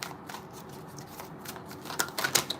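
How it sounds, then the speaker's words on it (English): A deck of playing cards is riffle-shuffled at close range, a soft rapid fluttering patter that builds into a few louder crisp bursts near the end, with no talking. "I'm gonna shuffle 2 more times."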